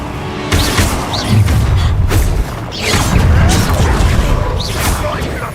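Confringo fire spell blasts in Hogwarts Legacy combat: several sharp booming bursts with whooshes and crashes over a dense, busy game soundscape, with a character's voice talking across it.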